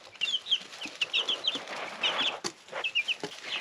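Black Australorp and silver-laced Wyandotte chicks peep in a warm brooder, a close, lively run of high chirps repeating in quick bursts, with a few soft knocks and no talking.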